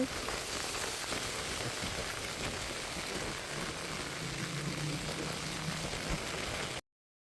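Steady afternoon rain falls by a roadside, a dense, even hiss of drops on the surface that holds unbroken for several seconds before cutting off, with no voices.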